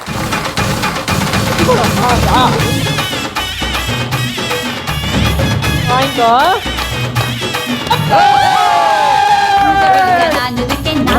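Clapping and cheering rise from a studio audience at a festive Pongal game show, with loud music and voices running over the crowd noise throughout.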